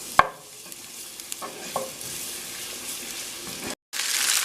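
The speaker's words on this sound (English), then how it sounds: "mag-init lang ng oil. And then, lagyan ng garlic." Garlic dropped into hot oil in a home kitchen for cilantro fried rice, a soft frying hiss with a few light clicks of utensils, briefly cutting out near the end before the sizzle returns louder.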